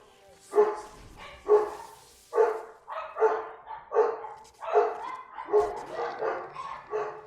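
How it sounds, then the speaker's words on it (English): Several dogs bark in a repeated series of sharp, fairly close woofs, about a dozen barks in quick succession with little else around them. "Dogs say hi."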